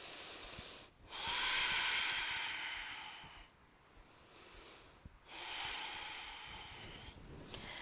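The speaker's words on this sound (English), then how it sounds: "Full inhale." Deep yoga breathing: two long, audible inhales through the nose, each a breathy hiss lasting a couple of seconds, separated by a slower, softer exhale, close to the microphone with no talking.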